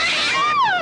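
A cat in a horror film lets out a single short, loud, close meow, rising then sliding down in pitch, with no other sound around it.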